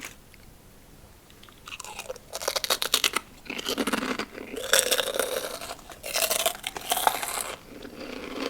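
Crisp, loud crunching bites of hot and spicy pork rinds close by, coming in irregular bursts with brief pauses between.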